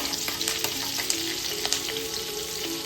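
Mustard seeds, asafoetida and curry leaves sizzle in hot oil with a steady, close, loud frying hiss dotted with small crackles and pops throughout, and no talking.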